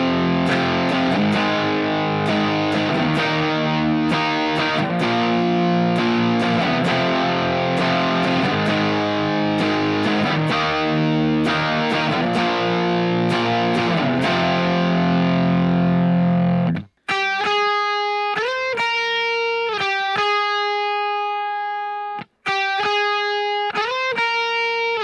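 Distorted electric guitar power chords, a steady loud chugging rhythm that stops abruptly partway through, then switches to cleaner ringing single-note phrases with a brief gap, no voice.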